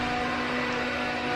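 A mixer grinder runs in a home kitchen during chicken curry preparation, a steady, even whirring hum that holds constant throughout without any pause or talk.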